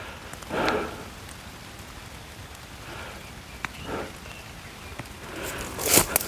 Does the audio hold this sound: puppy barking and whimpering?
no